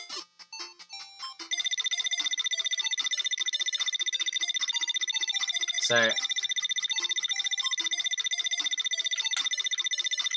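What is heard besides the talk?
annoying ringing sound in Sonic 1 8-bit randomizer video game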